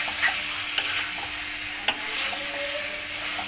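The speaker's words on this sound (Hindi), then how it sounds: "ये पूरा मैं इसमें डाल दूंगी और अच्छे से मिक्स कर दूंगी मैं इसको सारे मसालों में" Fried capsicum and onion being mixed into spices in a hot pan, a steady sizzle broken by two sharp spoon knocks against the pan, close and without speech.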